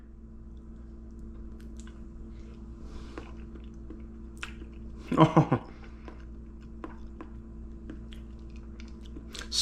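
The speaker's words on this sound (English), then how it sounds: "Perfect. First bite." Homemade two-ingredient jello gets bitten and chewed up close, a short squishy burst of wet mastication in the middle of an otherwise quiet stretch, with a brief spoken exclamation.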